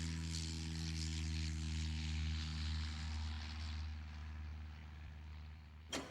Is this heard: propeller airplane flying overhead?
yes